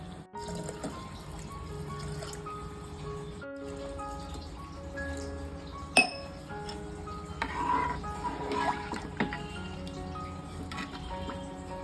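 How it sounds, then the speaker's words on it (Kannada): Three cups of water poured into a pot for rasam rice, a soft steady trickle and splash running through most of the stretch with faint drips, close by and unaccompanied by speech. "ಈಗ ಮೂರು ಕಪ್ಪು ನೀರನ್ನು ಆ್ಯಡ್ ಮಾಡ್ತಾ ಇದ್ದೀನಿ"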